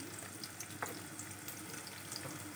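Spinach, onion and green chilies fry in a generous amount of oil, giving a steady soft sizzle with faint crackles and a few brief stirring clicks, close up and without talk.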